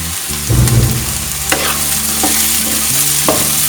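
Sliced onion gets stirred into sizzling dragon chicken in a pan, with a loud scrape when it goes in, then a steady fry broken by a few spoon knocks against the metal.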